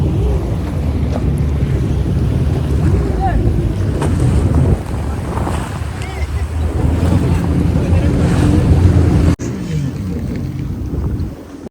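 A jet ski engine drones steadily on open water in Dubai, blended with heavy wind buffeting the microphone and splashing waves; a few voices are faintly audible.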